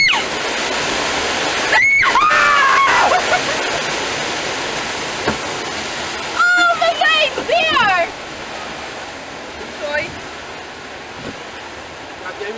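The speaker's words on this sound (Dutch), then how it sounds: "Die waterval!" Splashing water from a waterfall on an amusement park ride at Hellendoorn, a steady rushing wash under excited shouting and screaming voices throughout.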